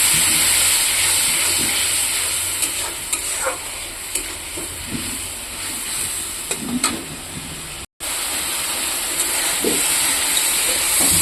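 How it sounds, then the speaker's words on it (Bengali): Spice paste, with a little water added, fries for a fish curry in a pan: steady sizzling with bright hiss and occasional stirring scrapes, continuous and fairly loud, with a brief dropout near the end. "এই যে অল্প জল দিয়ে দিচ্ছি মশলাটা ভাজার জন্য"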